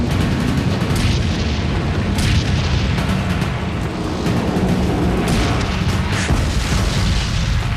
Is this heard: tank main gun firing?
yes